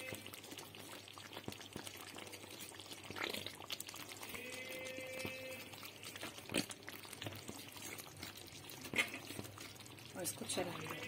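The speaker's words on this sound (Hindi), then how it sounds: "इसमें हम डालेंगे क्रीम" Cream is poured into a pan of simmering black pepper chicken with coriander and crushed chili, giving a soft pouring and bubbling sizzle beneath a person talking over it.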